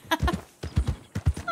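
Horse hooves in the video game Red Dead Redemption 2 clip-clop in three quick paired beats, close and distinct on hard ground.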